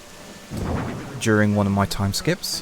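Steady rain falls in the Animal Crossing New Horizons video game, a soft continuous wash that runs under a person talking.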